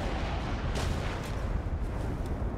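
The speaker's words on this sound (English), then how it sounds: "Nuclear missile has landed" A nuclear missile lands in the Darwin Project battle royale video game, a sustained low rumbling blast with crackling, debris-like noise that rolls on steadily for the whole stretch, with no voices.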